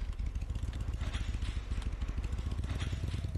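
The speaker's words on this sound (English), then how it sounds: "So I think I'm going to ride my motorcycle." A motorcycle ridden in the Roblox game Bloxburg gives off a steady, low, pulsing engine rumble that runs continuously and fairly loud, with no talking over it.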